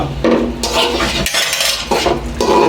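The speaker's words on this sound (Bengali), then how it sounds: "সুন্দরভাবে কষানো চলছে" Mixed vegetables being sautéed in a pot for vegetable khichuri, with loud bursts of a spoon scraping and clanking against the metal pot over a light sizzle; no voices.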